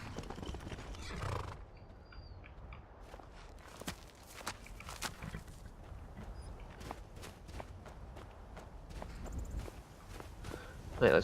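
Shadowmere, a horse in the game Skyrim, clip-clops along in a quick, regular run of hoofbeats, fairly close, with a faint snort or whinny near the end.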